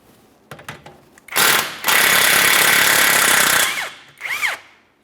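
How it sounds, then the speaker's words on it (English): A pneumatic impact wrench hammers loose a 19mm nut on the rear shock mount of a 2014–2019 Toyota Corolla axle, several loud close rattling bursts, the longest about two seconds, with brief pauses between. "We're going to remove our 19mm nut here."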